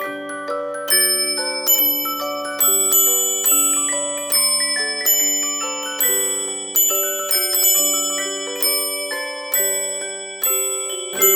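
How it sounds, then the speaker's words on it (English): A music box with added bells at the top playing a tune: clear, bright plucked comb notes with ringing bell chimes joining in, steady and close, with no talking. "we've got the added bells at the top here, and they come in and chime"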